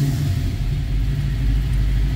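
A 1967 Chevrolet Nova engine runs steadily at idle, a loud, close, continuous low rumble with a deep throbbing tone and no voices over it.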